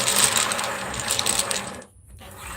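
Tarot cards being shuffled by hand, a close, busy papery riffling and clatter that runs steadily, dips briefly near the end, then resumes.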